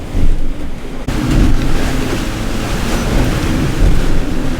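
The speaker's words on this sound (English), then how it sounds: "Upwind sailing." A sailboat beats upwind on open sea, with steady rushing wind buffeting the microphone and waves washing against the hull, loud and continuous, with no voices.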